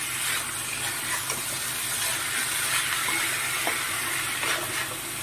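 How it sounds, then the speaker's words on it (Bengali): Boiled banana flower is stirred into spices frying in oil, a constant hissing sizzle close up with faint scraping stirs running underneath. "এবার আমি সেদ্ধ করে রাখা মোচাটা এর মধ্যে দিয়ে দেবো। দিয়ে এবার মশলাগুলোর সাথে মোচাটাকে ভালো করে মিশিয়ে নেব।"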